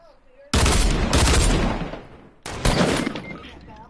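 Two loud Fortnite sniper shots, the first sustaining a long rumbling tail for about two seconds, the second following shortly after, close and sharp, no talk over them.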